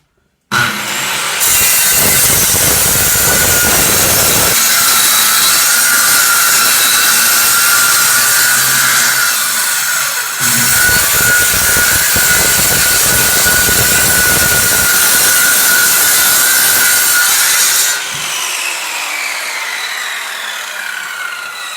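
A small benchtop table saw rips through a large wooden sheet, a loud continuous whining roar with a bright high-pitched edge that holds steady for most of the run, briefly dipping midway before the cut ends and the motor winds down.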